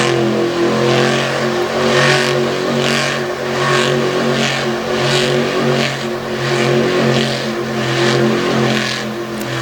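A monster truck, the ATI Performance Stinger, roars through a spin cycle at a Renegade monster truck event in Brownstown, Indiana, its engine revving loudly and continuously with rhythmic surges as it circles, close and dominant with no talk.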